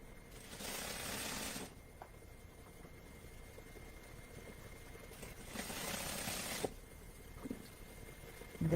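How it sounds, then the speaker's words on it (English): A sewing machine stitches a narrow rolled hem on a full skirt, running in two separate bursts of steady motor whir, each about a second long, with quiet fabric handling between them. "as I'm sewing"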